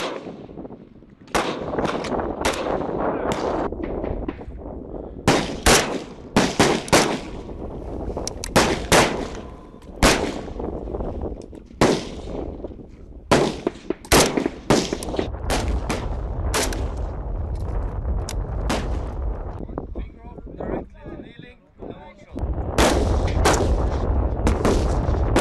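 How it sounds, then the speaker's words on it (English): Rifle fire from prone and kneeling shooting practice during army training, with loud, sharp gunshots in irregular bursts and overlapping volleys from several shooters, close and echoing, with continuous rumble underneath and no talking. "Prone and kneeling shooting with one shot each exposure."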